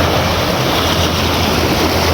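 Strong sea waves and a fast current at a shoreline fishing spot make a loud, steady wash of water that fills the whole clip. No voices are heard.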